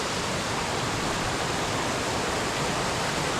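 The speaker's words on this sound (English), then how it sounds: "So there's the river crossing. A bit more water than what I'd like," River running at a crossing in Snowdonia, a loud, unbroken rush of water that fills the whole scene with no pauses and no voices.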